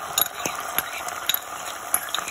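Sauce poured over sautéed garlic and chicken in a hot pan for Chicken 65, a soft steady sizzle with periodic clinks and scrapes of a spoon stirring, close up and without talk.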